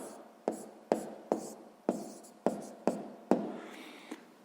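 Pen strokes on paper while working a sixth-grade maths exercise, heard as a series of about seven distinct scratchy strokes at a steady pace, close and moderately quiet, with no speech.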